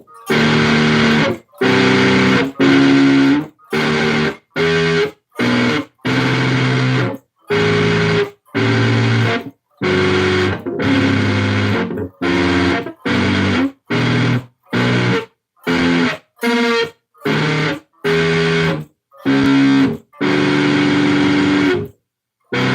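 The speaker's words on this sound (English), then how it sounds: "you can do like volume mode swells with it" Electric guitar chords rise from silence in repeated volume swells washed in reverb, each fading in smoothly and cutting off, in a steady rhythm of roughly twenty separate swells played close and clear.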